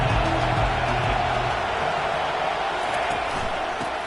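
A stadium crowd in a college football video game, a Tar Heels game, keeps up a steady, broad roar of massed voices. It stays loud and constant throughout, with a brief low hum early on.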